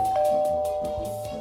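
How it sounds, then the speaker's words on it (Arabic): A doorbell at a home chimes a clear ding-dong once, loud and near, with nobody talking over it. "ده جرس الباب يا تيتا، اكيد حسين."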